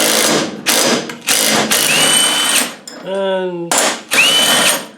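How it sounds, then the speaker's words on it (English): An impact gun nips up the drag link on a Land Rover Defender in a string of loud, close rattling bursts, followed by a brief rising whine and another burst, with someone speaking in between. "So I'm just going to sort of nip it down with the gun."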